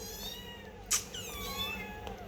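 A cat gives a soft, drawn-out meow, fairly close, with a brief sharp click partway through and a quiet background.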